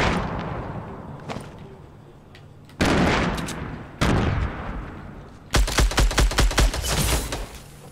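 Gunfire in the video game Fortnite: a single sharp shot, two heavy booming sniper-like blasts that each decay slowly, then a rapid burst of about seven automatic rounds, loud and close, no talking.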